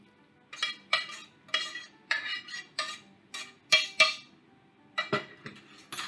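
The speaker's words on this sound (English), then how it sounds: "We're going to combine it with that hot vinegar mustard sauce." Roasted potatoes with their drippings being tossed with a hot vinegar mustard sauce for German potato salad, heard as a steady run of close, rhythmic scraping and clinking strokes against the bowl.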